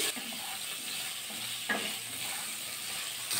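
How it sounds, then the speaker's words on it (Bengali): Potato, carrot, pointed gourd and drumstick pieces sizzle in hot oil in a pan with a steady, close broadband hiss and a few soft stirring scrapes, no voices. "ডাঁটা এগুলো একটু ভাজা করে নেবো 2-3 মিনিট।"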